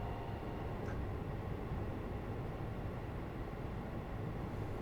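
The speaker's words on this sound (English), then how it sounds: "That's a train." Steady low rumble of a train on the West Coast Mainline South in Train Sim World 5, a continuous mid-distance drone with no talk over it.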